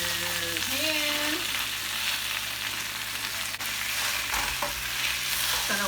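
Spinach dumped into a pan for japchae, frying with a constant loud hissing sizzle and occasional stirring clatter, a faint tonal hum drifting underneath, no speech.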